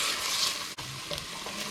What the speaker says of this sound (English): Cooking out that tomato paste